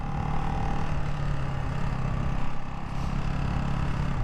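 A 2024 Ducati Hypermotard 698 Mono RVE motorcycle engine drones loud and steady while downshifting, a rough continuous roar with a brief dip near the end.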